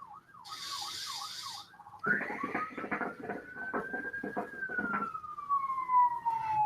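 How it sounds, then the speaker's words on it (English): A siren wails and yelps, then holds a long rising-and-falling tone, with a horn blasting in bursts as it passes along the street, fairly close. "a freaking fire truck goes down the street, sirens blaring, lights going"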